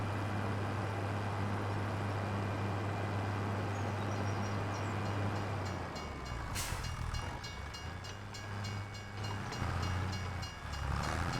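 A train in the Farming Simulator 25 game rumbles past with a steady low drone, then a sharp burst of clatter and rhythmic wheel knocks as it goes by, fairly loud and continuous throughout.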